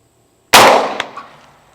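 A single sharp air rifle shot fired over a chronograph, a loud sudden crack with a short decaying ring and faint echoes, heard alone.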